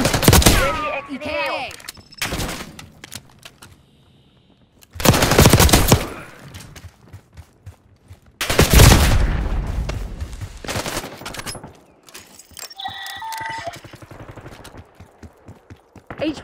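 Gunfire in the video game Black Ops 6, with bursts of automatic fire and heavy shots coming in loud clusters separated by quieter gaps, mixed with game sound effects and radio-style voice lines.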